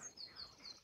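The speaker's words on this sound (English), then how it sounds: "Can you hear the frogs?" Faint, distant chirping calls repeat in a steady rhythm against a quiet outdoor background.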